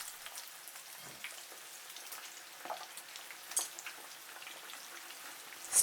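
Beef pieces fry in hot oil with a soft, steady crackling sizzle, broken by a few sharper pops.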